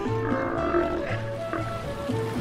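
Steller sea lions at Whale Rocks in the Salish Sea, near the strong currents of Cattle Pass, give repeated low, guttural growling roars in several short bursts, moderately close, with no talk over them.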